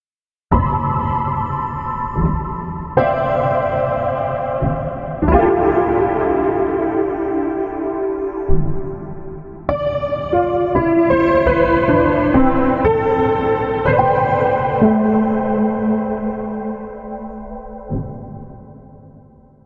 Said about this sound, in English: let's add a spacious reverb to the signal chain